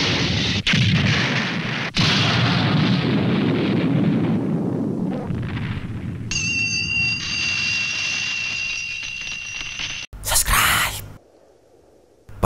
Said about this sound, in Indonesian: Monster itu meledak.